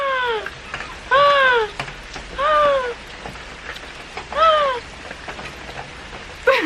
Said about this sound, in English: I don't know why, but the rain made it hotter.